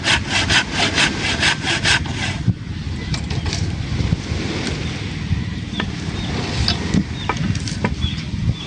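A hand saw rasps through wood in quick, steady back-and-forth strokes, loud and close, then fades into quieter scraping and scattered clicks.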